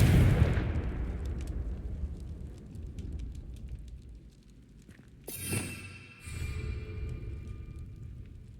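A Confringo explosive spell cast in Hogwarts Legacy, a deep boom fading out first, then a bright crackling burst followed by a rumbling second blast, fairly close.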